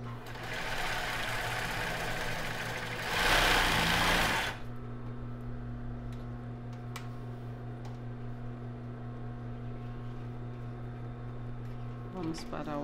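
A sewing machine stitches the finishing on a plus-size bra with raw elastic in a brief loud burst of rapid whirring, then falls to a steady low hum with faint clicks; there is no speech.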